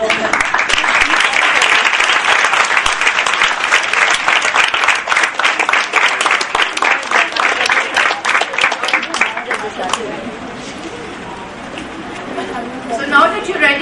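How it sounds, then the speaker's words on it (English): A room of Montessori workshop participants gives a sustained, loud round of applause that fades after about ten seconds into murmuring and a few voices. "will you be giving a warm clap?"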